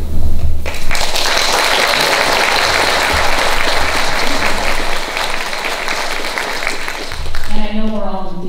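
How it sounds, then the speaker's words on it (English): Loud, sustained audience applause at a mayoral debate in Burlington, a dense crowd clapping that swells at the start, holds steady, then fades as a speaker begins talking near the end. "if I could ask you to refrain, hold your applause"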